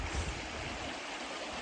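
Broadband rushing of river water flows steadily nearby, a dense continuous wash with a slightly stronger low surge at the start, no voices present.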